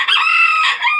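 A chicken lets out a single short, loud, close call with a clucking, crowing character, heard alone without talk.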